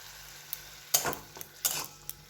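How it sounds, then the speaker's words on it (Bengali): Prawns fry in a spiced masala with tomato sauce, giving a soft sizzle under a few clinking stirs of a utensil against the pan, close and fairly quiet. "এই যে মশলাটায় চিংড়ি মাছ দিয়ে একটু কষিয়ে নিই ভালো করে।"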